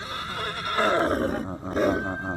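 A horse whinnies at the Pushkar fair, one loud, close neigh rising and wavering for about two seconds with a shorter trailing call.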